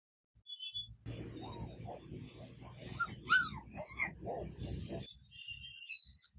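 A dog whimpers and whines in repeated high, wavering cries, close and fairly quiet, with a person talking over it.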